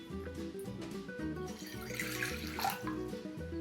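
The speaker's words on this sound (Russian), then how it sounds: "Берем чашку и наливаем стакан воды." Water runs and trickles softly into a cup for a few seconds, faint and close, with a quiet tonal background and no speech.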